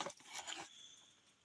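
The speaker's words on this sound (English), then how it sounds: "What are you guys barking at?" A dog gives a couple of quick barks or yelps near the start, then the sound fades into quiet room tone with a faint steady whine, heard up close and briefly.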